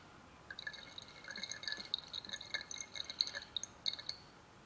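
Water trickles slowly into a cylinder of a Cosworth engine on a garage bench, making faint, close drips and small splashy trickles that come in irregular bursts, with no talking.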